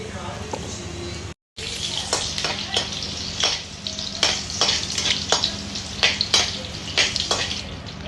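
Steady sizzling of green chillies frying in a pan for dried fish curry, with repeated stirring scrapes and clinks over the hiss, close and fairly loud.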